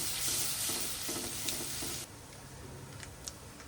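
Urad dal crackles in hot oil with turmeric for a tempering, a close bright sizzle with faint spoon taps that drops suddenly to a quieter hiss with occasional small pops.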